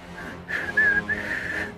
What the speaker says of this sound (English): She starts whistling.